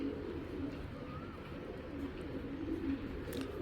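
A domestic pigeon, an uncommon ash-eyed bird shown by a pigeon seller, coos softly in low, repeated murmuring notes against a steady background hum.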